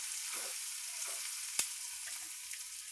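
Onions and green chilies fry in a pan with a steady, close sizzle throughout, plus a single sharp clink of a utensil against the pan partway through.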